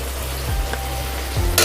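Black chickpeas frying in a pan with tomato, turmeric and salt give a continuous close sizzle, broken by a couple of scraping stirs and a sharper hiss at the end.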